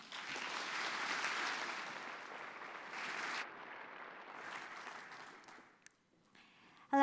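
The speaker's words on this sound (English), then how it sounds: "In the meantime, please give a huge round of applause for Dr. Ayesha Khanna." Conference audience at an IoD keynote in New Zealand clapping for the keynote speaker, a steady burst of applause that swells, gradually fades out near the end, and is followed by a short quiet.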